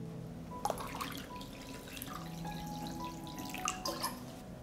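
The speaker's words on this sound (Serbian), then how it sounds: "U šerpu sipam toplu vodu." Warm water poured into a deep cooking pot holding glass jars set on a cloth, a steady moderate splashing and trickling with a few drips and light clinks.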